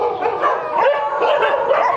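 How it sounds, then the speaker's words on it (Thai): A pack of dogs at a dog care center in Nakhon Pathom, Thailand keeps up a loud, overlapping din of barks, yips and howls, close by and unbroken, with no one speaking. "ถ่ายเข้ามาก็ยังเห่ากันไม่เลิกครับ"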